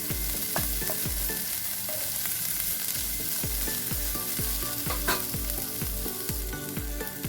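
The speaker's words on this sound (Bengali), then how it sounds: "2 থেকে 3 মিনিট আমি এতে ভাজলাম পেঁয়াজ রসুনটা, পেঁয়াজ রসুন কাঁচা লঙ্কা আদা।" Onion, garlic, green chilli and ginger fry in a pan over a raised gas flame, giving a loud continuous sizzle with rhythmic spatula knocks and scrapes against the pan throughout.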